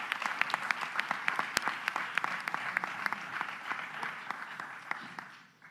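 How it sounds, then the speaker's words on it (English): An audience at a press briefing applauds, a steady burst of many hands clapping at moderate distance that carries on for several seconds and then fades away at the end. "Let's give a special round of applause"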